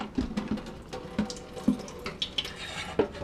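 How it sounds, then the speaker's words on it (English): Water from a Fluval 206 aquarium canister filter drains into a sink, a soft, close trickle with scattered drips and splashes at an uneven rhythm, no voices. "I'll just put that in the sink to drain"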